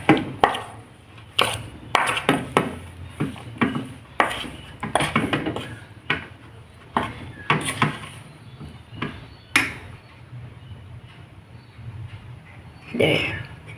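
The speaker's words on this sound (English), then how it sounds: "gently mix it around with a spoon" A spoon stirring melting chocolate in a bowl held with a towel, giving scattered clinks and scrapes against the bowl, close by, mixed with a person talking.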